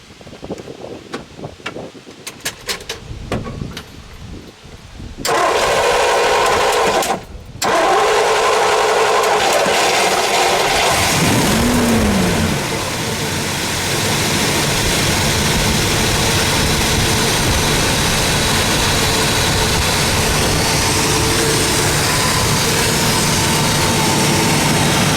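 A supercharged 1964 Studebaker Hawk Gran Turismo GT R2 engine cranks and fires after a few seconds of wind-buffeted quiet, then settles into a loud, steady, rumbling idle close to the microphone with a brief rev along the way.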